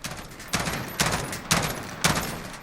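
An M16A4 rifle in Call of Duty Modern Warfare fires five evenly spaced bursts about half a second apart, each a sharp loud crack with a brief rattling tail.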